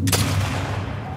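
A single loud, booming gunshot from the video game The Last of Us Part II hits at the start and rolls off into a sustained rumble.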